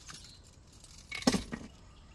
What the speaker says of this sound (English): Take my keys out.